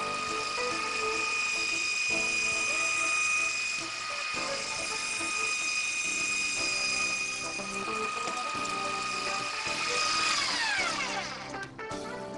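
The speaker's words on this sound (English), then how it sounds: "Position the auger at the desired angle on the soil surface and begin drilling." A hammer drill driving a soil auger into the ground runs steadily with a whirring mechanical hum that shifts pitch a few times, then winds down near the end.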